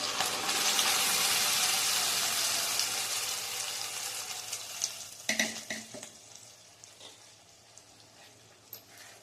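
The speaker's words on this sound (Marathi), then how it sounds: "ही पण छान परतून घ्यायची, म्हणजे टोमॅटोचा कच्चेपणा जाईपर्यंत परतायची" Tomato puree is poured over softened onions in a hot pan, setting off a loud rushing sizzle that gradually subsides into gentler bubbling, with a few spoon scrapes and clanks as it is stirred.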